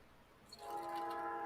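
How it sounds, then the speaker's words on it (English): A passing train near a station sounds its horn, a faint, distant tonal blast swelling in after a brief quiet stretch and holding to the end. "And I have a train in my ear."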